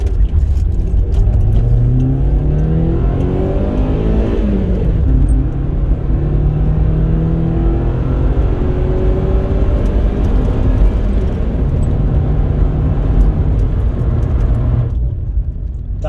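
A Rover car turns around and then accelerates hard, its engine note climbing in rising sweeps through the gears, loud and close throughout with steady road roar and no talking.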